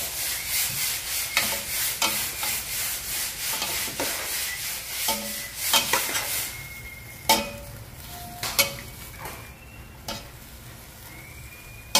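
Pancit noodles, bihon, stirred in a hot pan, with a steady sizzle and repeated scraping and rubbing strokes of a utensil; nearby and fairly loud, with no talk over it.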